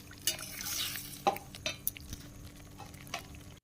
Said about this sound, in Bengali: এদিকে আমি মশলাটা উলিয়ে নিচ্ছি।